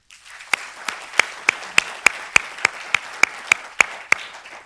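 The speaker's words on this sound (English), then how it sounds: "They also deserve a big round of applause for helping nurture this next generation of doctors and researchers for Singapore." Graduation ceremony audience clapping for faculty, heard as sharp, evenly spaced claps in a steady rhythm of roughly three per second, close and distinct over a soft hall background.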